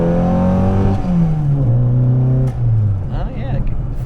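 A car engine revs up hard as the vehicle accelerates on the road, its pitch climbing and then dropping through a gear change. The engine is loud and steady, with talk in the cabin under it.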